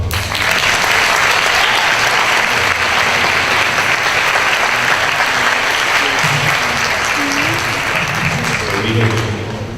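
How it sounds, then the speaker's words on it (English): An audience applauds newly enrolled students at a fall semester opening-day ceremony: loud, sustained crowd clapping that lasts throughout, with some voices and cheering mixed in toward the end. "Let's give them another round of applause."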